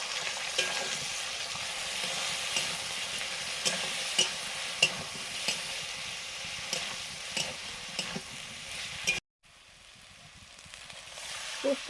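Fried potatoes and poppy seed paste are stirred in a sizzling pan, with a steady frying hiss and repeated soft scraping strokes. The sound cuts out briefly near the end, then resumes more quietly.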